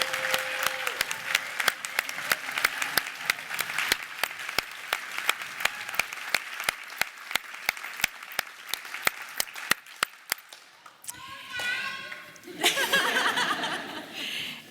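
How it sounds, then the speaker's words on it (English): Audience applause at a nursing pinning ceremony for graduating nurses, a steady wash of clapping with sharp individual claps throughout, then a brief pause and a second, fuller burst of clapping with some laughter. "I think we need to give a round of applause to these folks."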